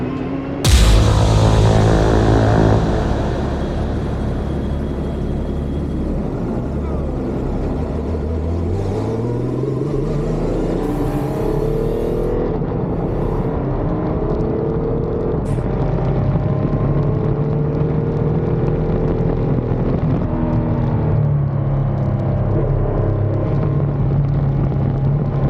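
A racecar called the Jade on its first track session: the engine fires up loudly, then drones steadily with rising and falling revs through gear changes, close and continuous for the whole stretch with no talk.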